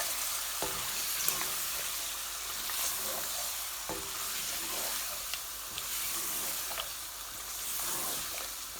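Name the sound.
stirring chicken into frying spice masala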